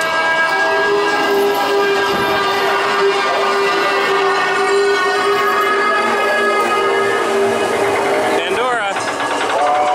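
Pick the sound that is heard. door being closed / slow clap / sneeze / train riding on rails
train riding on rails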